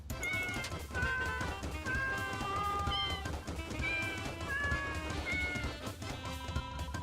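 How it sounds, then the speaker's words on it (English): Mike, a cat in the video game Deltarune, meows repeatedly as it is petted, a run of bright, wavering meows over a busy game soundtrack. "Mike is definitely a cat."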